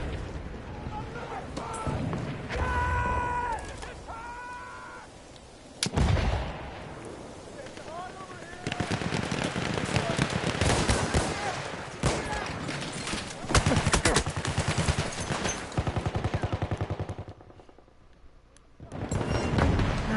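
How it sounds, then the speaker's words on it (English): Heavy artillery and gunfire in a video game clan battle between BOSS Clan International and Red Devils Rush: rapid bursts and booming volleys that come and go, mixed under steady commentary talk. "Nesquickie is laying down some heavy artillery"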